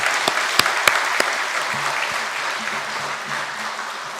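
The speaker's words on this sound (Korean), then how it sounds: "우리 따뜻한 박수로 환영하도록 하겠습니다" Church congregation clapping warmly to welcome visitors during a Sunday service, a few sharp near claps at first, then a dense steady round of applause that continues at moderate loudness.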